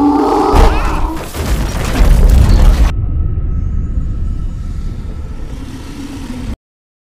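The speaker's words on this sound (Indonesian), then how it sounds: "Terdengar ledakan dari belakang, diikuti dengan suara-suara mengerikan." A loud explosion in a film booms and rumbles, heavy low roar for about three seconds, then fades into a quieter lingering rumble with faint tonal sounds before cutting off.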